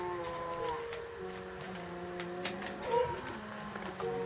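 A Minecraft cow lows softly in the background of a peaceful-mode game, a faint drawn-out moo under quiet ambient game sound with no talk.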